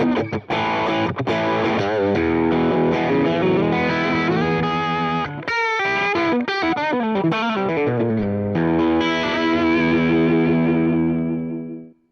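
A Line 6 James Tyler Variax JTV-69 electric guitar plays sustained distorted chords and a quick run of notes, thick with chorus shimmer, loud and continuous before cutting off.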